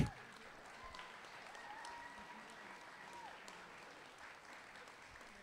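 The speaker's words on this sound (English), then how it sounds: "Come on, let's give them a big round of applause." Applause from an audience at a high school commencement ceremony, a steady wash of clapping held at an even, moderate level throughout, heard from some distance within a large room.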